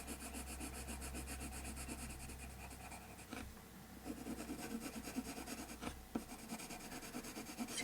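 Colored pencil shading layers onto drawing paper with a soft, close, continuous scratchy rubbing, steady strokes broken by a couple of short pauses, faint and alone.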